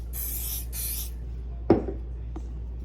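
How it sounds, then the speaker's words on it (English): Carbon Pro protective spray misted onto handbags from an aerosol can, two short close hissing bursts followed by a faint rubbing knock. "We're gonna go ahead and spray this side now."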